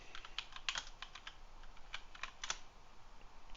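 Typing on a computer keyboard while entering a chat message in a maze game, a quiet run of irregular, light key clicks with no talk.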